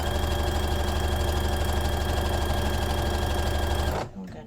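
A sewing machine runs steadily, stitching and back-stitching thrifted scarf fabric, its loud continuous motor hum and rapid needle rhythm filling the space before stopping abruptly near the end.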